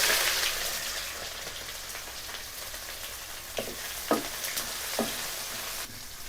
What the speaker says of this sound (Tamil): நல்லா பொன்னீரம் வர்ற வரைக்கும் வதக்கணும்பா.